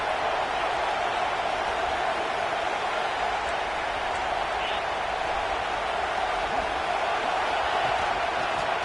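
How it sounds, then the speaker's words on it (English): A football stadium crowd roars steadily to back the defense in the red zone, a broad distant wash of noise under a commentator's talk. "And the crowd coming to life here, trying to help this defense down in the red zone."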